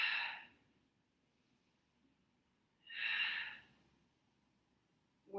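Breathing during a core exercise workout: two distinct breathy exhale-inhale bursts separated by quiet stretches, close and moderately soft, with no talking.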